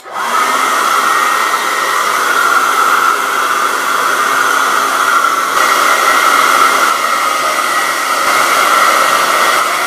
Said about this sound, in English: I'm going to blow dry my hair.